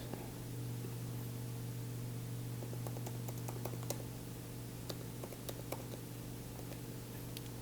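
Keys click at an uneven pace on a computer keyboard while someone types login credentials, faint and scattered over a steady background hiss.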